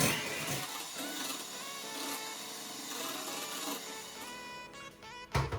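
A mixer whirs steadily as egg yolks or whites are beaten with sugar for a tres leches cake, a close, continuous motor drone with shifting pitch that cuts off abruptly near the end.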